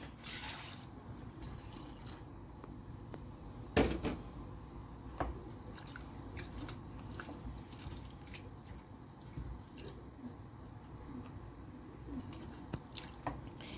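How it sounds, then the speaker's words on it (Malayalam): Soaked flattened rice (poha) is rinsed with water in a home kitchen while preparing palappam batter, giving soft, faint watery trickles and drips close by, with no talking. "നമുക്കിനി ഇതൊന്ന് വെള്ളം ഒഴിച്ചൊന്ന് കഴുകിയെടുക്കാം."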